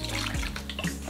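Water is poured to rehydrate moss inside a tarantula enclosure, a short close splash and trickle with a couple of quick pours.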